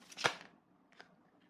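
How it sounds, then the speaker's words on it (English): Tarot cards being shuffled by hand: a loud, brief papery riffle burst near the start, then a softer second flutter about a second later, in a quiet room with no talking. "So let us shuffle a few more cards here to get more to the situation or story"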